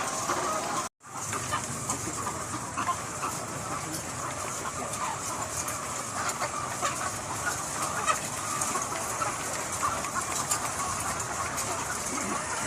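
Layer hens about ten months old cluck in a Pakistani egg-farm house, kept four to a cage compartment. The dense flock chatter fills the whole stretch with a steady din, and a short dropout comes near the start.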